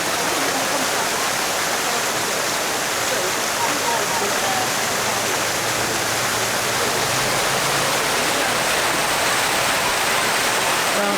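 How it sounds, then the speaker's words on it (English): Water splashes steadily in a public fountain in Italy, a loud continuous rushing hiss that stays even throughout, with a voice talking faintly beneath it. "No swimming in the fountain."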